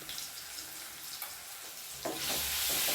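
Potato masala sizzling and frying in a pan after turmeric powder goes in, a steady hiss with light stirring scrapes that grows louder toward the end.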